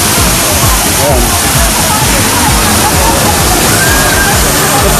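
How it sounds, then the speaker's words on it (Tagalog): Waterfall at Gan HaShlosha near Tiberias, Israel, with people swimming nearby: a steady, loud broadband rush of falling water fills the whole stretch, with faint crowd voices mixed underneath. "Ito po yung waterfall."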